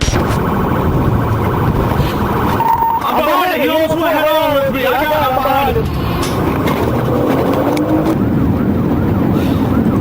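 Police patrol car siren wailing in a high-speed chase after an evading car, a loud rising-and-falling wail that sweeps in over steady traffic noise and then fades, with people talking throughout.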